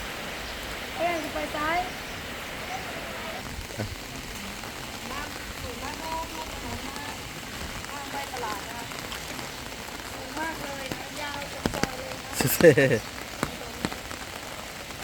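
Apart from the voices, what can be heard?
heavy rain falling on a flooded street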